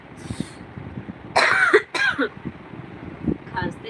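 A person in a Hindi live session coughs in a few harsh bursts near the middle, close and loud, with quieter throat sounds and breathy noises around them.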